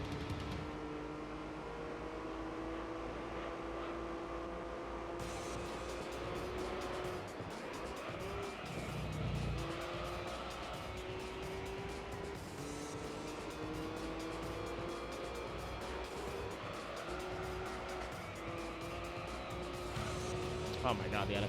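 A Honda NSX race car in Gran Turismo 3 howls steadily, its engine pitch climbing through gears in repeated rising sweeps, with brief tire squeal and other cars nearby, under a person talking.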